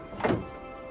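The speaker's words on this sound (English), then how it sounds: "give it a little twist and a tap" A single dull thunk as a film developing tank is tapped against a darkroom sink, short and close, with quiet room tone around it.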